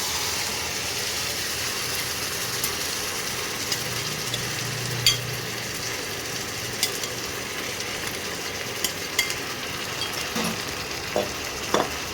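Chicken for a shahi chicken dish fries in a pan with onions browned in oil, giving a steady, close sizzling hiss with occasional light stirring clicks and no voices.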